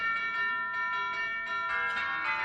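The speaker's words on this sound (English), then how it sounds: "I pushed the bell." A doorbell rings in a radio drama set on Christmas Eve, sounding as a steady, sustained bell-like tone with ringing harmonics that holds for about two and a half seconds, clear and alone without talk.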